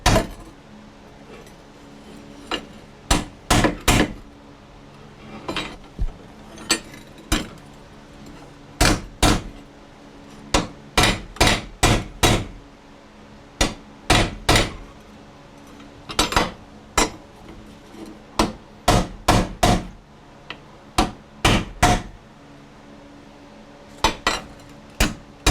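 Sharp metallic hammer blows striking a metal arch tensioner bracket for a motorized bicycle, landing in irregular clusters of quick strikes with brief pauses, loud and close, with no talking.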